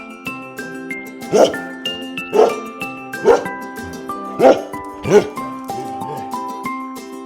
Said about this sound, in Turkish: Köpek ne der? Hav hav.